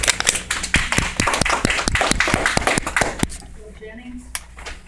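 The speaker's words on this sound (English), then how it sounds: "it was nice to clap for Mr. Burke." Audience hands clapping in a board meeting room, a dense run of sharp claps lasting about three seconds before stopping abruptly, with faint murmuring in the quiet after.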